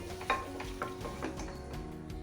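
A spoon stirs chopped potatoes into partly cooked tomatoes and bottle gourd in a pan over medium heat. Scraping strokes repeat several times over a constant sizzle, close and fairly loud.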